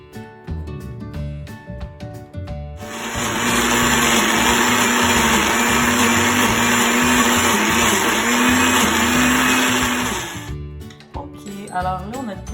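A blender whirs loudly for about seven seconds, mixing healthy cookie dough ingredients, with quieter kitchen handling noises before and after the steady motor drone.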